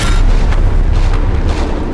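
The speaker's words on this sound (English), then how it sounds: "We can use those cannons to shoot it at him!" Booming cannon blasts from the South Park Snow Day video game, with cannons firing toilet paper as ammo; heavy, dense low-end thumps repeat through the whole stretch at steady loudness, with no talk over them.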